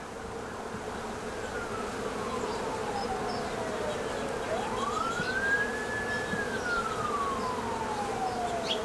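Dense swarm of honey bees, a collected swarm one week on, buzzing steadily close by, joined by a faint distant siren rising and falling in the background.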